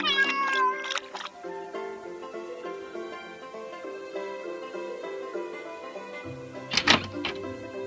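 Cartoon cats meow in a burst of high, wavering calls at the start, followed by a soft, sustained musical score and another short cluster of meows and a thump near the end.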